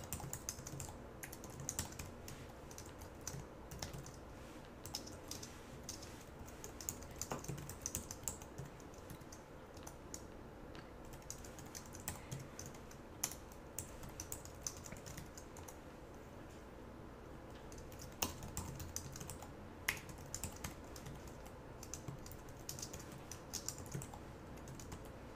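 Code is typed on a computer keyboard in a continuous stream of soft, close key clicks with occasional louder taps, quiet and without speech.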